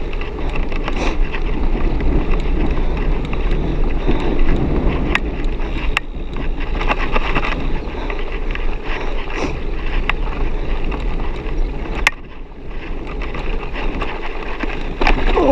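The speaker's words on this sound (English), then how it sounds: "it's quite windy now." Strong wind buffeting the microphone while cycling a country route past a village toward the A19, a loud, steady low roar with gusty surges throughout and no talk.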